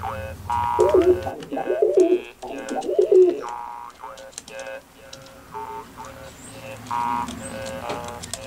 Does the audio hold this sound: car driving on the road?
no